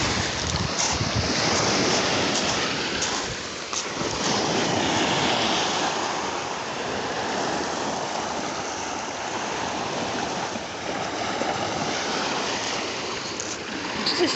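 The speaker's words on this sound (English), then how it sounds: "I just love it, the currents that go all these different directions." Ocean waves and shifting currents along the shore at Fort Worden, with strong wind buffeting the microphone, make a continuous loud surging roar that swells and eases without pause.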